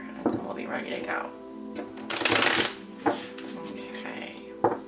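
Tarot cards are shuffled by hand in a few quick riffling bursts, with one louder flurry in the middle. A voice talks faintly underneath.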